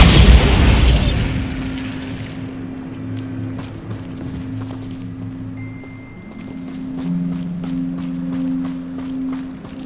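A Bombarda spell explosion in Hogwarts Legacy, a loud booming blast at the start that rumbles and decays over about two seconds, followed by a low humming game ambience.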